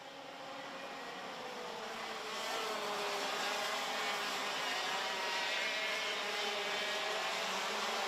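A field of IAME X30 junior karts, a 27-strong grid, moves off together onto the formation lap at the Ostricourt circuit, a continuous buzzy drone of many small engines swelling louder after a couple of seconds and holding steady.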